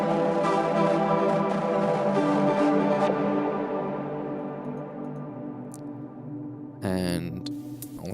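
A bright, buzzy synth sequence plays a repeating pattern, its tone slowly darkening and fading before a short loud burst near the end.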